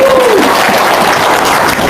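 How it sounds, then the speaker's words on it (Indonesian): Steady audience applause from a crowd at a testimonial gathering, loud and dense clapping that runs evenly throughout with no voices over it. "Tepuk tangan Anda."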